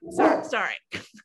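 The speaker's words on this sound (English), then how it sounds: "And that's my dog." A dog barking indoors in a city apartment during nighttime fireworks, two or three sharp close barks in quick succession, mixed with a person's brief speech.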